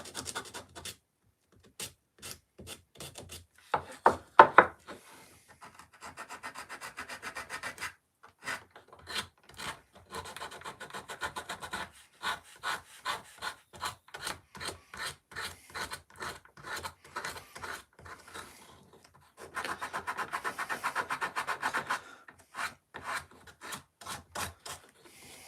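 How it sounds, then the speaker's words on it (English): Close-up sanding of wood, repeated rasping back-and-forth strokes in a steady rhythm, broken by brief pauses. "I tried to do the minimal sanding"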